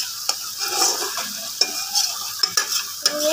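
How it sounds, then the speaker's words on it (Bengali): Potatoes and lentil dumplings stir-fried in spice paste, with repeated sharp scrapes and clinks of a utensil against the pan over a soft, continuous sizzle. "এখন হচ্ছে এর ভিতরে আলু আর হচ্ছে ডিমরা বড়ি দিয়ে আমি একটু কষাই"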